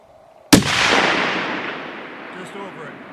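A single rifle shot cracks sharply at an outdoor shooting range, close and loud, followed by a long rolling echo that fades over a couple of seconds.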